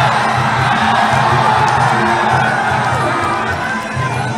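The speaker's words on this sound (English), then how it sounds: "Cotterlin waking up the crowd with that flurry of knees." Crowd at a Muay Thai fight between Cotterlin and Gong cheers and shouts loudly in a sustained roar that tapers slightly at the end, with commentary over it.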